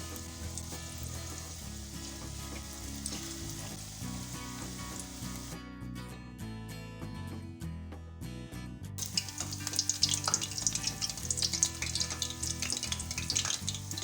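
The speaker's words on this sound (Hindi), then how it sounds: "इसे मीडियम टू लो फ्लेम पे फ्राई करूँगी ताकि ये अच्छी तरह अंदर से पक जाए।" Onion pakora fritters of gram flour batter fry in oil over a medium-to-low flame, giving a steady close sizzle that swells louder and busier toward the end, with no talk.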